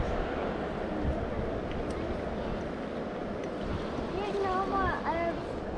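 River rapids on the Middle Fork American River surge under a raft as a steady, close, broadband rush of churning water and wind, with a voice speaking briefly near the end.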